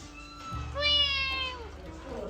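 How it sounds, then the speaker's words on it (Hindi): A Persian cat indoors at a Mozabite Berber home in Algeria gives a clear, close, rising-and-falling meow, followed by a shorter trailing mew, with a voice murmuring faintly beneath. "बड़ी बहुत सही बिल्ली है यार, पर्शियन बिल्ली।"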